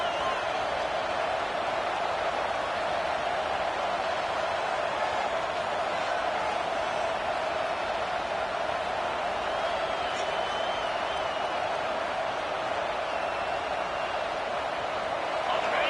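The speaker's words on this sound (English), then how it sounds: "This crowd, full throat, splitting the eardrums" A stadium crowd roars continuously at a college football game in NCAA 26, a dense, steady wall of cheering that holds at high volume throughout, with faint whistles and shouts on top.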